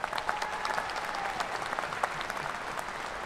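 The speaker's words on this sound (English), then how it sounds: "I ask the audience to recognize them for their achievements with a round of applause" A commencement audience applauds the graduates with dense, even clapping from a large crowd. The clapping is fairly faint and distant and holds steady throughout.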